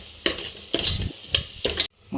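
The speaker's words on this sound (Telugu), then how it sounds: "ఇవన్నీ వేసుకొని ఒకసారి బాగా కలిపేసుకోండి." Spice masala powders stirred in a hot pan for Muslim-style mutton paya, the spoon scraping in a few distinct strokes over a steady sizzle of frying, close and fairly loud, with no talking.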